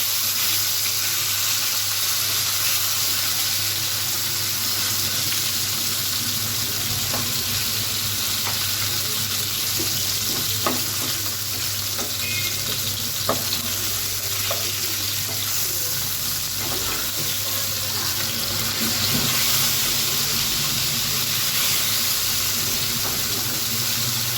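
Fish fries in a pan in a home kitchen with a steady, loud sizzle and crackle throughout, broken by occasional sharper pops and the clink of stirring.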